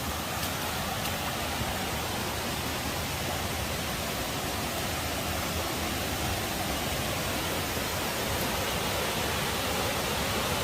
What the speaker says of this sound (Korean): 계곡물이 철철철 흐르고 있습니다